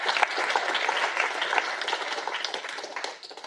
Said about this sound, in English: Big round of applause for Jane Street for hosting us.